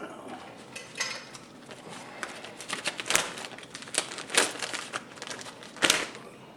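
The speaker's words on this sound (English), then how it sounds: "this goes back in the plastic bag" A plastic bag being handled during a restomod of a Kay instrument crinkles close up in an irregular series of sharp crackles and rustles, with a few louder snaps.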